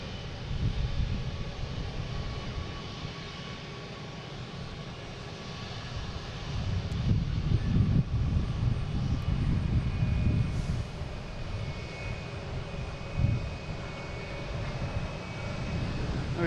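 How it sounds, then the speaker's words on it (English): A Southwest Airlines Boeing 737-800 arriving from Chicago Midway at Boston Logan gives a steady, moderately loud jet engine rumble that swells slightly in the middle, with no talking. "we got Southwest coming in from Chicago Midway, 737-800, flight"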